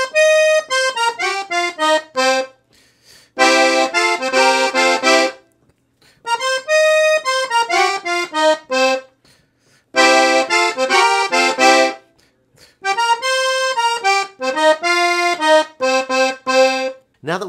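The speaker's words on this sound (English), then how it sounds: "Now let's listen to our call phrase twice, followed by our response phrase in tempo." Piano accordion plays a blues call phrase twice and then an answering response phrase in tempo, bright reedy chords in short bursts separated by brief pauses, solo and close.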